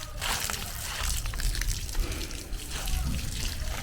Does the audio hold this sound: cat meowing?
no